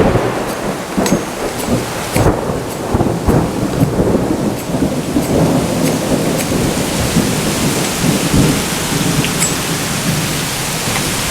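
A major thunderstorm with heavy, steady rain pouring onto surfaces and repeated loud cracks and rolls of thunder throughout, no voices.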